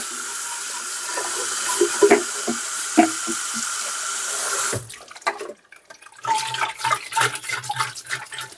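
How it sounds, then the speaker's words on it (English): A Bissell Little Green Proheat cleaner part being rinsed under a running tap, with steady flowing water and clunks as the part is handled, then a sudden break and renewed splashing and gurgling. "I'm just going to rinse this out."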